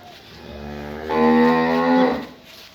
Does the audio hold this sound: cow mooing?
yes